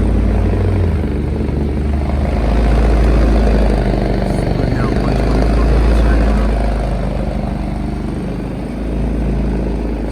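A Kranzle 1622TS gravity-fed pressure washer runs with a steady, low motor drone, close and continuous, gently rising and falling in level.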